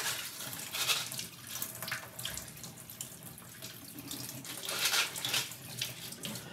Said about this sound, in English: Just rinse them off with some water.